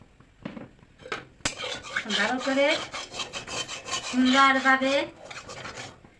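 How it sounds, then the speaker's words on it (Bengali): A spatula scrapes and rasps against a metal kadai as oil is stirred for a fish curry. The short scraping strokes repeat beneath a voice. "এখন তেল কড়াইটা নাড়ি চাড়িয়ে নেব"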